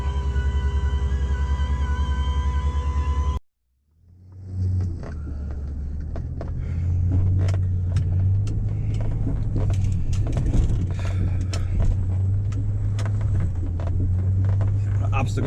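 An old, rusty plow truck's engine rumbles steadily up close after a brief silent gap, a low idle with scattered clicks and knocks over it.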